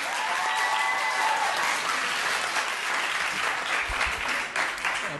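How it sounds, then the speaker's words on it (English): Audience applause fills a legislative committee hearing room, a dense steady clatter of many hands clapping throughout, with no talk over it. "if we could hold our applause"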